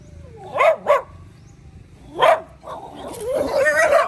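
A dachshund barks outdoors on a street, two quick close yaps followed by a single louder bark, then whimpering and yipping noises blend into rising background sound.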